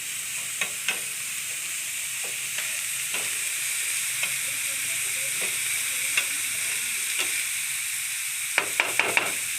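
Frying in a pan for egg rolls makes a constant close hiss and sizzle, broken by light scrapes and taps of stirring at irregular intervals, with a quick cluster of clicks near the end.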